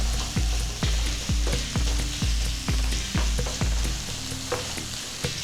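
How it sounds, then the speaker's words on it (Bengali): Chicken mince fries in butter with a steady sizzle, broken by regular, close scraping strokes of a spatula about twice a second that stop near the end. "কিমাটা আমি এই মাখনে একটু ভালো করে ভাজা করে নেব"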